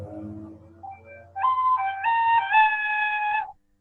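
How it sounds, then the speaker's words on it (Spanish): A ceramic flute plays a short, breathy melody of clear sustained notes that step upward, after a faint low hum. It sounds close and fairly quiet, with no talk. "Tenemos una flauta de cerámica."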